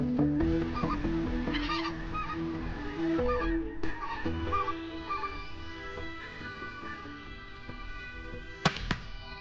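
Repeated specklebelly goose calls from a hunt, high yelping honks in quick bursts, some near and some farther off, over open-air background noise with a sharp pop near the end.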